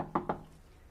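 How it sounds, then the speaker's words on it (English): Two quick knocks on a bedroom door, a radio drama sound effect, sharp and close with a short gap between them, then quiet room tone. "Madame Darzac was alone in her bedroom when we knocked at the door."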